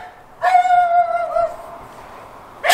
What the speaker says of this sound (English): My dog was just, she's so loud.